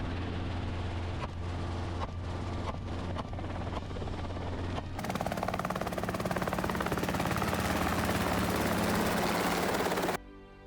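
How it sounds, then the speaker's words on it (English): A helicopter carrying gunners hunting wild boar over Texas countryside drones loudly with a steady rotor chop, growing louder and fuller partway through before cutting off abruptly near the end. "Helicopters flown by licensed gunners sweep across the vast countryside."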